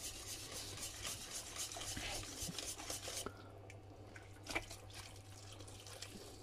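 Vegetable lasagne sauce simmers in a pot with a steady, soft bubbling hiss over a low hum, and one small thump near the end.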